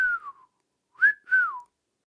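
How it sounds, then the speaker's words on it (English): Someone whistles three clear notes: a falling tone, then a short pause before a rising note and a final descending one, close and alone. "I look straight into the camera and whistle."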